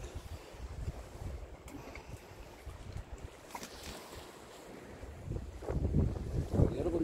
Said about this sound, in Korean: 지금 바람이 많이 불고 있습니다.